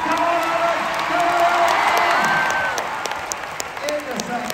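A large arena crowd at the London International Horse Show cheers and applauds loudly and continuously, with whoops rising over the roar and a voice calling out above it.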